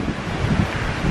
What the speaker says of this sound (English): the wind is like cray cray